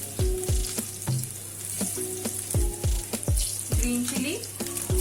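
Finely chopped ginger and garlic hit hot oil in a kadai, giving a steady sizzle and frying hiss punctuated by repeated clinks and scrapes of a spoon stirring against the metal pan.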